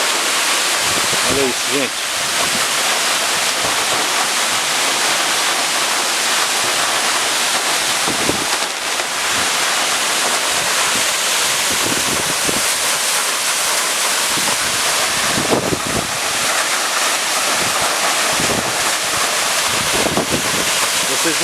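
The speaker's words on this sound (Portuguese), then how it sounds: "Olha a água descendo ali, ó." Water rushes down a waterfall at Tamarana, a constant loud roar mixed with heavy wind buffeting the microphone, while someone speaks excitedly over it.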